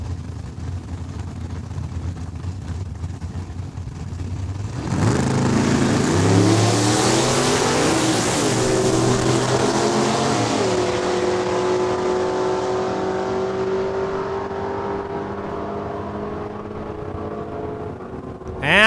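Drag racing launch at Saskatchewan International Raceway: a 1968 Mustang and another car leave the starting line, engines roaring loudly from near silence into a sustained, rising howl that fades gradually as they pull away down the strip.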